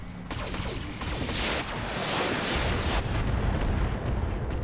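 Dense, continuous barrage of weapons fire and explosions in the video game Roguepoint, loud and rumbling throughout with overlapping booms and crackle and no talking.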